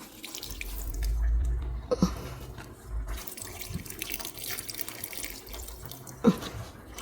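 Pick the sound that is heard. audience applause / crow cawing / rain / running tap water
running tap water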